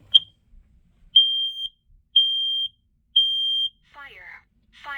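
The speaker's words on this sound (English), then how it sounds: "It's a smoke and fire alarm" A Kidde smoke and fire alarm under test gives three loud, piercing, evenly spaced beeps, each about half a second long, after one brief chirp, and a synthetic voice begins speaking at the end.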